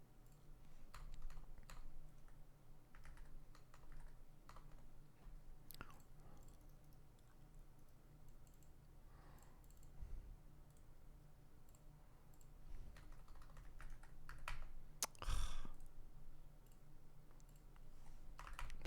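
Rapid clicking keystrokes on a computer keyboard come in irregular bursts at close range, with a few louder individual taps standing out against a quiet background.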